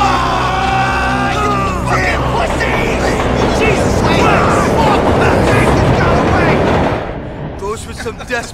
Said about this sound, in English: That's our train. We gotta make it.